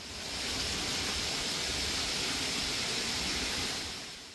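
A mountain stream rushes through a wooded valley in a secret forest in central Seoul, giving a steady, broadband roar of flowing water, fairly close and unbroken, with no voices over it.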